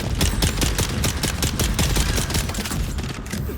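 Rapid automatic gunfire in Dune: Awakening, a dense unbroken volley of shots pouring out continuously at close range, loud and steady, with no voices over it.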